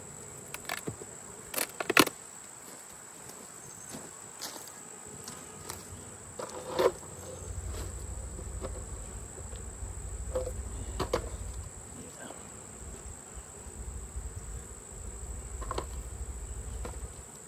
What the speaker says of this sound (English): See a ton of bees.